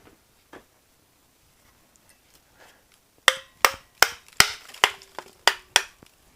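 A hammer strikes a front brake rotor on a 2017 Chevy Silverado 1500 pickup, eight sharp metallic blows with a short ring after each, loud and close, following a few quiet clinks.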